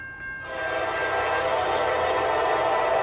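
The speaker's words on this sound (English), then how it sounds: "Beautiful horn." A Norfolk Southern GE C44-9W freight locomotive sounds its horn at a grade crossing in Chesapeake, Virginia: a loud, sustained multi-tone chord starting abruptly and holding steady, close by and with no voices.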